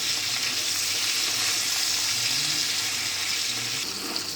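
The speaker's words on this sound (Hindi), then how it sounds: "थोड़ी देर इसको इसमें तलेंगे" Loud continuous sizzling of red chili powder and spices frying in hot oil, steady and close, with no talking.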